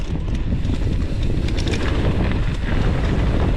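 Steady, loud wind buffeting the microphone while a rider descends a bike park trail, a continuous broadband roar that holds through the whole moment with no talk.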